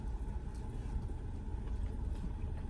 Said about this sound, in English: I'm driving my mama's spare car right now.